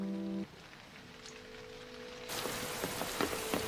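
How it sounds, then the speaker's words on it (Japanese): Rain starts abruptly partway through, a soft hiss that jumps to a steady, fuller patter of drops, heard close in a quiet setting. "哦，又下雨了。"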